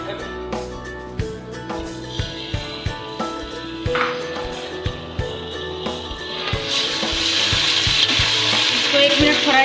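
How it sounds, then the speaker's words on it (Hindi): Golden fried onions with ginger garlic paste added sizzle in a pan. Rhythmic spoon taps and scraping sit over the frying, which swells into a louder, denser hiss after a few seconds. "इसके अंदर मैं अदरक लहसुन का पेस्ट ऐड कर दूँ।"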